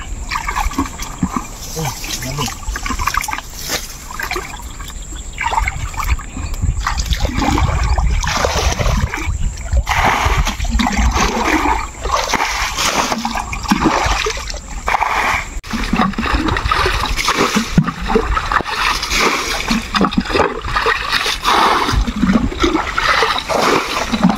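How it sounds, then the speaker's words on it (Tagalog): Water being bailed out of a fish pond in Danaw, Calauag, Quezon Province, with continuous loud splashing, sloshing and pouring in irregular bursts close by. "Ngayon, yung tubig nito lilimasin natin para medyo mabawasan."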